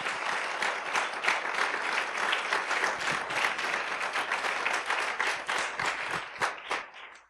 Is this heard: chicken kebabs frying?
no